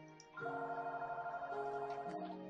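A phone's electronic ringtone rings again, a steady melodic tone pattern heard close and alone for a couple of seconds.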